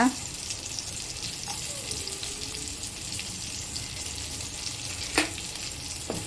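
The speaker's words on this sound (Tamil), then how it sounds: "இப்போ இதை லைட்டாக வதக்கி விடுங்க" Two large, roughly chopped onions sauté in a pan for butter chicken masala with a soft, steady sizzle. A couple of brief clinks of stirring cut in, and nobody talks over it.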